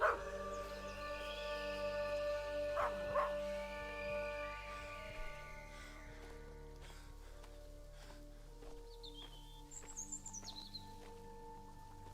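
A dog in the Maid of Sker video game, faint howling and whimpering yips drifting over a low, steady ambient drone, with a few higher bird-like calls near the end.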